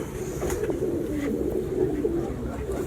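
Fancy pigeons cooing in a loft, a continuous low, rolling coo from several birds close by, steady and fairly loud against a busy background murmur.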